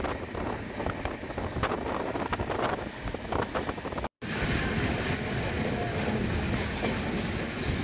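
A double-decker express train runs along the rails on a route from Chennai toward Ongole, giving a loud, steady rolling rumble with faint clickety-clack and wind buffeting heard from on board, broken by one short dropout.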